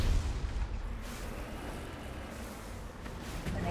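Sustained gunfire and booming artillery-like blasts in a video game, a dense continuous rumble of shots and explosions throughout, loud and without pauses.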